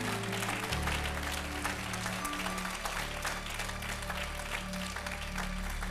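Congregation at a church service applauding and cheering the sermon, a broad steady wash of clapping filling the whole stretch over sustained low musical tones.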